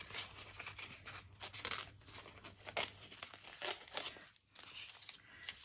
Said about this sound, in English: Let's try the brown one. But we'll cut it, because since it's so big.